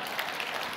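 Applause from a panel audience, a dense even wash of many hands clapping at steady loudness throughout the short moment, with no voices standing out.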